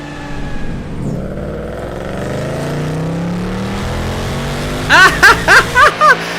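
Supercharged engine of a Cadillac CT5 Blackwing with a 730 hp stock blower drones steadily and loudly, then lets out five sharp, rapid exhaust puffs from detonation near the end.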